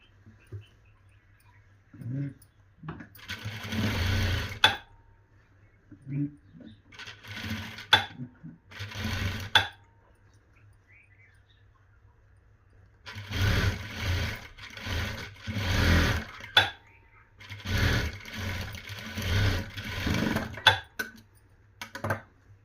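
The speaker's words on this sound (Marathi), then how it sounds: "आता हे आतल्या बाजूकडून काढून घ्यायचं आणि फिटिंगची शिलाई मारून घ्यायची." A sewing machine stitches the fitting seam on a four-tuck blouse in short bursts of quick mechanical stitching separated by quiet pauses, close and moderately loud.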